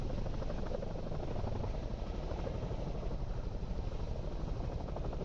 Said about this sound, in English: It's your average two propeller helicopter.